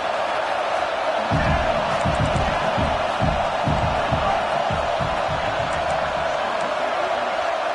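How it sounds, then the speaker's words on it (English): A big football stadium crowd roars steadily through the final minute of a game, a dense wall of cheering and whooping heard from within the stands, with rhythmic chant-like bursts swelling partway through. "Tremendous crowd atmosphere now in the final minute of play."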